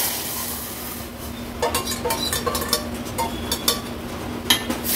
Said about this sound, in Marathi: हे शिजवलेलं तुरीची डाळ आहे ती फोडणीला घालूया